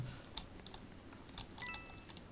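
Computer keyboard keys pressed during Roblox play, a scatter of light, quiet taps in irregular bursts, faint and close, with a brief tonal beep in the background and no speech.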